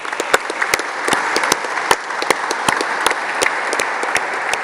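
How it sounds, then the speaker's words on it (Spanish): Applause from a crowd at a hospital construction site inspection in Sonora, honoring the state's governor, Claudia Pavlovich; steady dense clapping with sharp individual claps standing out, fairly close and sustained throughout. "que le quiero dar un aplauso"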